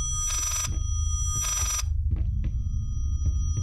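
A telephone rings in the horror video game Layers of Fear, two bursts of harsh, rattling bell tone over a constant low rumble, followed by scattered thuds and knocks.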